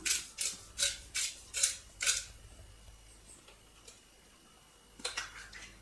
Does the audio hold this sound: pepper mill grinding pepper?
yes